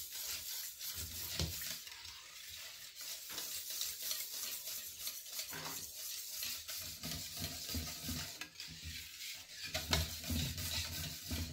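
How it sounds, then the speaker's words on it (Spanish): A whisk stirs beaten eggs into milk and pumpkin for a pie filling, a steady close scraping and swishing in a bowl that continues without pause and without talk. "Vamos a agregarlos a la leche y a la calabaza. Le damos otra batida."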